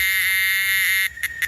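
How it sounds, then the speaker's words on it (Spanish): A Chinese cicada buzzes loud and close in a steady, high-pitched drone that cuts out after about a second, followed by a few short pulsing bursts. "Esta cigarra es un poco rara, de todas maneras. Es una cigarra."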